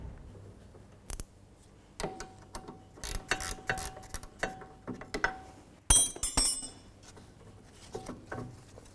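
Wrench working the nut on the rear sway bar link of a 2005-2009 Subaru Outback, a series of close, sharp ratcheting clicks and metallic ticks in irregular bursts against a quiet garage background.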